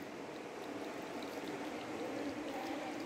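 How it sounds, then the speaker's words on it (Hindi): Water seeps and trickles from rock slabs at a hillside shrine, making a steady, soft, continuous wash of running water with no talking. "इन शिलाओं से ये जो पानी आप देख रहे हैं, पानी रिसता रहता है।"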